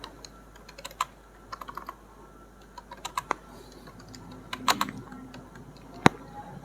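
Ruby code being typed on a computer keyboard, with scattered clicks and key taps in short uneven bursts, sharp and fairly close, over a faint steady room hiss and no speech.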